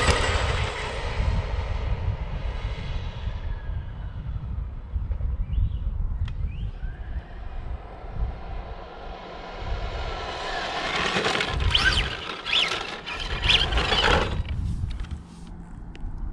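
An RC car fitted with a Tamiya Sport Tuned motor on a 3S battery makes a speed run, its motor whining loud and steady throughout and rising to a harsher, brighter surge near the end.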